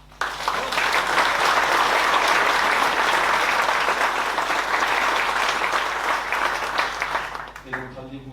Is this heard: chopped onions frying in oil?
no